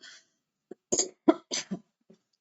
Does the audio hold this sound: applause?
no